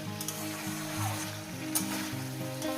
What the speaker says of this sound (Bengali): ভালো করে কষিয়ে নেব প্রায় দু মিনিট কষানো হয়েছে